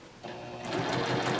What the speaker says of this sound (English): And so I'm just going to continue sewing.